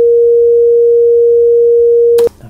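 Computer-generated 500 Hz sine wave at amplitude 0.8, a loud, steady pure tone held for over two seconds before stopping abruptly with a short click.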